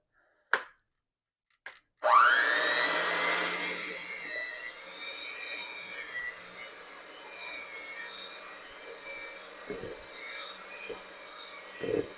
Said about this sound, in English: All right, let's mix this up a little bit.